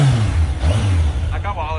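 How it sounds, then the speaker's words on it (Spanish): A motorcycle engine being revved during a cafe racer build project, a steady low engine rumble rising and falling under a voice, close to the microphone. "un par de acelerones para que veáis que suave va el motor"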